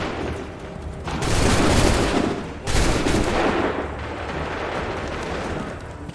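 A volley of soldiers' musket gunfire in Assassin's Creed III erupts as a loud, dense roar of overlapping shots, a second burst following closely, then fading into a lingering rumbling tail.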